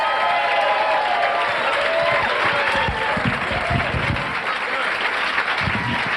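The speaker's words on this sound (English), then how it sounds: "Thanks for applause, Jerry Miller." A live television comedy show audience applauds and cheers in a dense, steady wash of clapping that holds at even loudness from start to finish.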